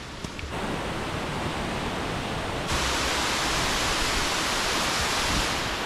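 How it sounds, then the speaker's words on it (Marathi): A small waterfall beside a railway track in the Sahyadri hills near Khopoli, a steady dense rush of falling water that grows louder and brighter partway through, close and continuous with no voices. "या रेल्वे पटरीच्या डाव्या बाजूला इथं हा एक छोटासा असा धबधबा आहे."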